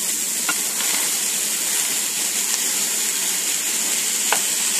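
Ground beef with onions and celery sizzles in a pan, a continuous close hiss of frying with a few faint clicks from stirring.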